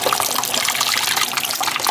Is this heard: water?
yes